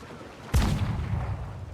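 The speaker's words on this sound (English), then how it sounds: "Being sniped at." A single loud sniper shot cracks sharply in Assassin's Creed Black Flag, followed by a rumbling echo that lingers and decays over the next second, with no talking over it.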